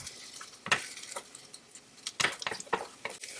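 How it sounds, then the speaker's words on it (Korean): Egg mixture is poured into an oiled pan and rolled, giving a faint sizzle broken by several sharp clinks and scrapes of a utensil against the pan, close and fairly quiet. "식용유를 두른 팬에 부어주고 말아줍니다"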